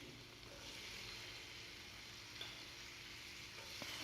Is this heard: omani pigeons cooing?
no